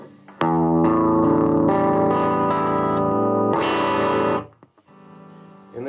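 Electric guitar played through a Monoprice/Laney 5-watt tube amp with a negative feedback mod, loud distorted sustained chords and notes close up, then a short pause and a quieter strum, with no talking.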